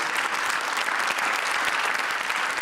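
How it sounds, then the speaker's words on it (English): Audience applause at the close of a conference session, dense steady clapping from a crowd filling the whole stretch at even loudness. "let's give them an applause for their effort"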